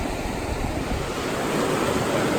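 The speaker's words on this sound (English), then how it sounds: "that's some speedy water" Fast-flowing stream water rushes loudly and constantly during a hiking river crossing on the Continental Divide Trail, a dense close roar with wind buffeting the microphone.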